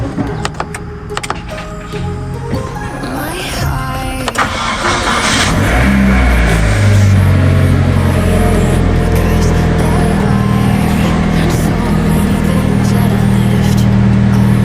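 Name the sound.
Mitsubishi 4K22 engine starting and running after rebuild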